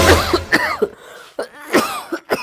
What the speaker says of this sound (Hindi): अरे क्यों खांस रहा भाई?